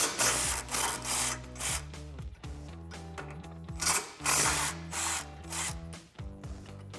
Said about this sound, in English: We're going to remove our factory mounted tow hooks with our 17mm socket